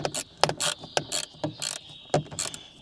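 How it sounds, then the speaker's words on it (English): A small ratchet tightens a 13mm bolt on the battery of a Bentley W12 Continental GT, giving a quick run of close, crisp clicking bursts in an uneven rhythm. "once I get my little ratchet in, I can tighten up that bolt"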